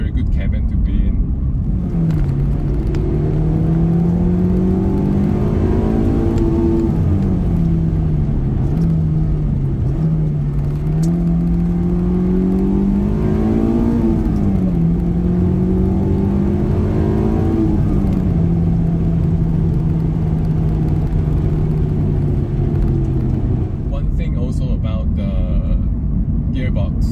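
A Honda S2000 engine revs loudly as the car accelerates, its tone climbing through several short gears, each upshift pulling the pitch back down, with a voice talking over the steady engine roar.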